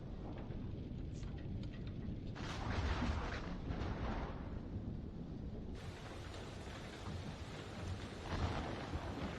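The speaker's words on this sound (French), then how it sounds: "Voilà, direct les orages." A thunderstorm in the video game Man of Medan, with low rumbling thunder over a steady hiss of rain, swelling and fading in rolls across the stretch, with no talk.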